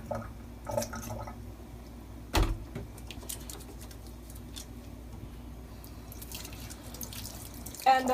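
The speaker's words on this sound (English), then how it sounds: "Just gonna quickly wash my hands." Hands are washed under a running kitchen tap while vegetarian dumplings are being made, a steady wash of water with splashes and a louder knock near the middle, heard alone.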